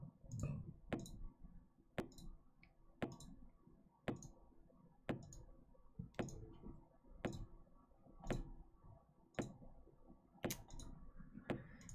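A computer mouse clicks through turns in the strategy game Master of Magic, sharp single clicks spaced about a second apart at a steady rhythm, close and clear over a quiet background.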